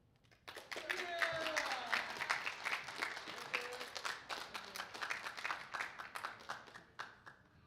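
Audience applause at a marching band honors night award ceremony, a dense burst of many hands clapping that starts abruptly, swells and holds steady, with a few voices calling out beneath it.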